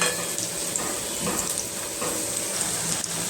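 Cauliflower bhaji fritters frying in hot oil on the second side give off a steady, close crackling sizzle with fine popping throughout.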